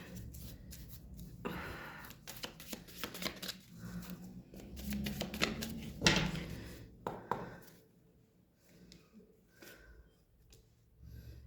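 Tarot cards are shuffled and drawn by hand, giving close, soft riffling and brisk slapping flicks in uneven bursts, then a quieter stretch of light card handling.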